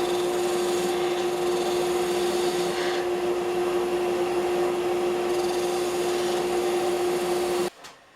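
Wood lathe turning a wooden pepper mill while a corner is rounded off, a steady loud spinning hum with a constant tone and rasping scrape of the tool, running continuously before stopping abruptly near the end.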